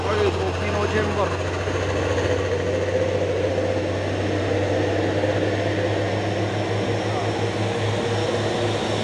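A Pino truck from Jember pulls in with a steady, loud engine drone and low rumble that holds throughout, close by, with voices talking over it.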